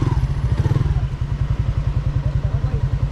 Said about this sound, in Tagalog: Park ko lang yung motor.